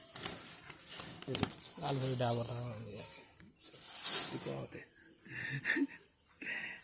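Imported-bloodline pigeons coo in a few soft, throaty calls at close range, broken by wing rustles and clatter, while someone talks over them.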